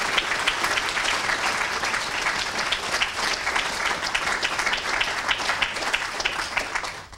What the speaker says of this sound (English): let's have a warm round of applause for our speakers.